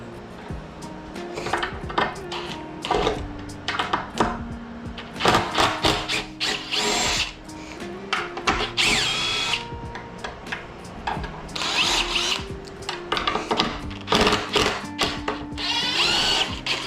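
An impact driver backing screws out of a taxidermy head form, giving loud, close bursts of whirring and rattling hammering, stopping and restarting repeatedly with brief clatters between runs and no talk.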